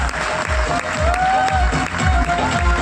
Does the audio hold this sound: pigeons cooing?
no